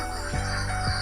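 A white-breasted waterhen calls, a short call ringing out twice in quick succession, fairly close, over a steady low background hum.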